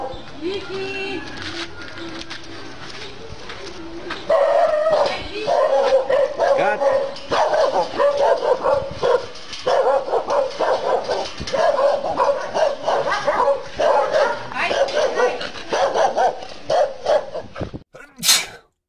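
A dog barks repeatedly in a rapid, uneven series, close and fairly loud, with a voice speaking over parts of it before a brief loud burst at the end.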